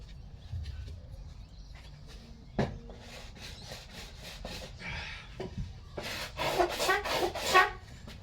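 Concrete sandpaper rubs across a shower pod in faint, rhythmic scratchy strokes that grow denser and louder toward the end, with a sharp knock partway through.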